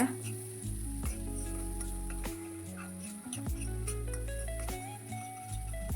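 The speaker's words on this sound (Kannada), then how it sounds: "ಸ್ವಲ್ಪ ಬೆಳ್ಳುಳ್ಳಿ ರೋಸ್ಟ್ ಆದಮೇಲೆ ಈರುಳ್ಳಿನ ಸೇರಿಸ್ಕೊಳ್ಳೋಣ." Garlic and onion sauté over a low flame in a pan for a creamy white sauce pasta, making a continuous sizzle over a low background hum, with repeated scraping and clinking from stirring.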